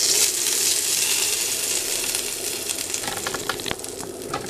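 Hot oil tempering with Kashmiri red chili powder, poured over leftover roti, sizzles loudly and steadily, with scattered crackles and pops as it settles.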